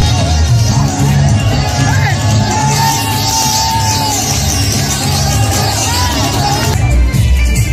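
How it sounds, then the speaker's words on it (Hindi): A large outdoor crowd at a Holi festival fills the air with loud, dense babble, shouts and scattered whoops, with music and tonal sounds running underneath, close and continuous. "ये देख सकते हो भीड़ यहाँ पे कितनी ज़्यादा भीड़ है"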